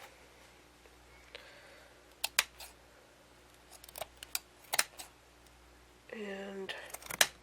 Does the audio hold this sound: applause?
no